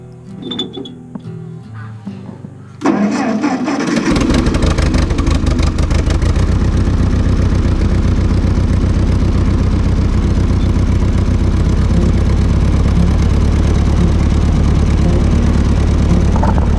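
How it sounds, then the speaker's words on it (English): A 1948 tractor engine cranks briefly, then catches on the first try and settles into a loud, steady, close running rumble that carries on without talk. "Fired right up first try. 1948. Pretty cool tractor."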